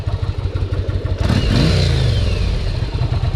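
A 1988 Yamaha Virago 750 cruiser motorcycle idles with a close, loud, lumpy beat, then revs up briefly around the middle and settles back to a steady rumble.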